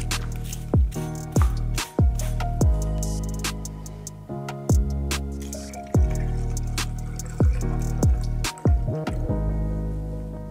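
Orangina is poured into a glass packed with ice cubes: a close, steady run of gurgling pours and wet drips with sharp little clinks and cracks from the ice. No one speaks.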